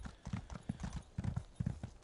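Horse hooves clip-clopping at a steady trot in Elder Scrolls Online, the close, hollow beats falling in an even rhythm for the whole stretch with no talk over them.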